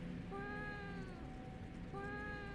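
Two separate meows from a cat in the horror video game Fears to Fathom: Woodbury Getaway, each a clear tonal call about a second long, against a constant low background hum with no voices.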